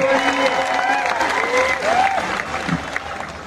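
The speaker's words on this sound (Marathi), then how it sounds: "करा की टाळ्या सर्वांनी" Crowd clapping at an outdoor kushti wrestling bout in Chandur, a steady patter of applause with a voice carrying over it and a whistle-like tone sliding through.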